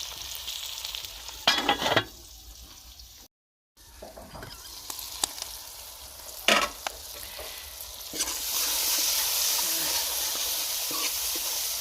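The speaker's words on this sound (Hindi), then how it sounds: "अब इनको कवर करके हमने 3 से 4 मिनट पकाना है ताकि टमाटर जो है नरम हो जाए और ऑयल अलग होना शुरू हो जाए।" Tomatoes cooking in oil in a covered pan, giving a soft, steady sizzle with a few brief louder clatters and stirring noises; the frying hiss grows stronger near the end, and no one speaks.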